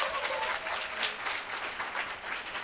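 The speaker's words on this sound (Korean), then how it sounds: "여러분 스스로를 위해서 박수 한번 치고 시작하겠습니다" At a Korean product lecture, a seated audience gives steady, moderately distant applause, an even wash of many hands clapping throughout with no speech.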